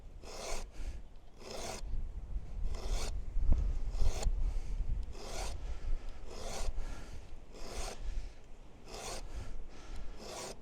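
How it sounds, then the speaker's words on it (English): A hand file rasps against a metal edge in about ten even, rhythmic strokes to raise a burr. Each stroke gives a close, crisp scrape with short pauses between, and no one speaks. "we have 10 little strokes, and it can fill a nice burr on the top"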